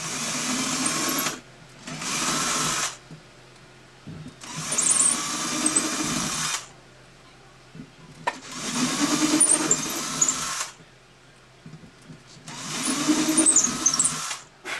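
A drill whirs in repeated bursts of a few seconds each, boring into wood with little downward pressure on a D-28 guitar kit, with short quiet pauses between runs.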